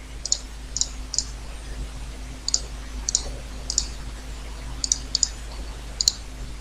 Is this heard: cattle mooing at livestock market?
no